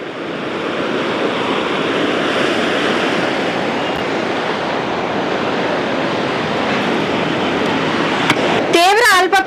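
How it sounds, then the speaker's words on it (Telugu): Huge sea waves crash onto a beach near a port under a storm warning, a loud continuous roaring surf with heavy wind noise, ending in a short burst of nearby sound. "బీచ్లో ఉవ్వెత్తిన అలలు కూడా పడుతున్నాయి"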